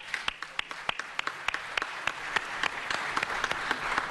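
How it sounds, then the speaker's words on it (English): Applause from the audience at a city council meeting: scattered, crisp hand claps build into a steady patter over about four seconds, moderately distant and fairly quiet. "Let's give you a round of applause."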